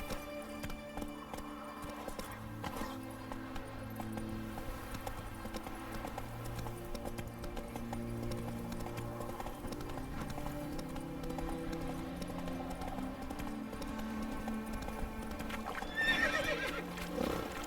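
A horse gallops with rapid, even hoofbeats in the fantasy role-playing game The Witcher 3: Hearts of Stone, running steadily under game music, with a whinny near the end.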